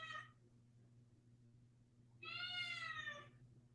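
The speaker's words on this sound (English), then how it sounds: "We can hear the cat better than you." A cat meows twice: a short call at the start, then a longer, louder drawn-out meow a couple of seconds later, heard over a low electrical hum in an otherwise quiet room.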